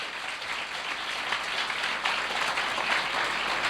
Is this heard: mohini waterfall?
no